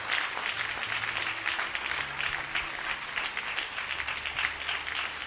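A church congregation applauds with steady, dense clapping, moderately distant and continuous throughout, with a faint low hum underneath.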